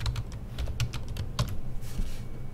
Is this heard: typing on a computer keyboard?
yes